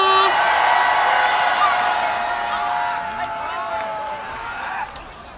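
A concert crowd cheers and shouts for a surprise birthday after a show in Korea, a loud sustained roar of many voices with whoops that fades slightly toward the end.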